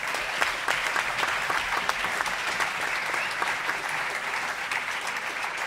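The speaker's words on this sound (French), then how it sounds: "Je voudrais qu'on l'applaudisse." A concert audience at a live jazz festival applauds steadily and densely throughout, a continuous wash of many hands clapping with no pauses.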